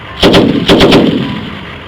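Two short bursts of automatic gunfire ring out at a historical battle reenactment, each a quick rapid string of sharp, loud, close shots, separated by a brief gap and fading into reverberation.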